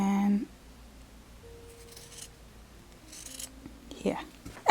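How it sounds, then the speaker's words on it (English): Scissors snip off excess fabric while sewing a crossover mini bag, with a few short, close cutting and rubbing sounds under a quiet room tone and some speech. "And I'm cutting off excess here"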